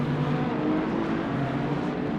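The number 93 Peugeot 9X8 race car in Le Mans Ultimate, running an 8-hour race at Bahrain. Its engine gives a steady, even drone at moderate level throughout, with no talking.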